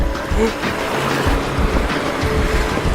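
A waterfall near a glacier in Norway, heard from close by, gives off a steady, loud rushing roar of falling water that carries on without a break.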